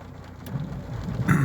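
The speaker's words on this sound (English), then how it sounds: "it's raining today" Steady rain falling outdoors on a rainy day, a continuous soft patter that swells slightly near the end, with no voices.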